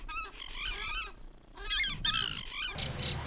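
Birds in the Iberá wetlands give loud, honking, goose-like calls in repeated bursts, close and clear over a quiet outdoor background.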